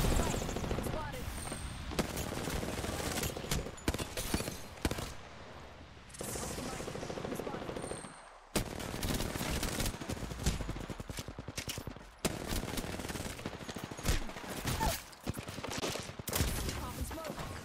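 Gunfire crackles in an Apex Legends match, with rapid automatic bursts and single shots layered over game sound effects and a busy, dense mix, while a voice speaks over parts of the action.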